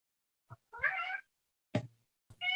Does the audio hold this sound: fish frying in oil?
no